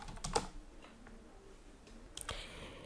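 Quiet, close typing on a computer keyboard, a few scattered key clicks and taps with short pauses between them.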